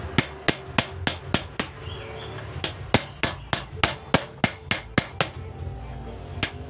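Sharp metal-on-metal hammer strikes on a blunt iron bar, widening the crimp of a Honda Tiger Revo rear shock absorber, about twenty evenly spaced ringing blows, close and loud.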